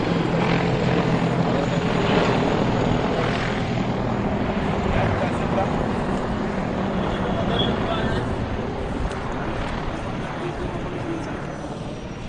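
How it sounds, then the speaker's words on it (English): Military attack helicopters fly overhead at an Independence Day celebration in Uganda, their rotors making a continuous thudding roar that slowly fades a little as the aircraft move on. "In the lead is the transport chopper, but in Tao are the attack helicopters"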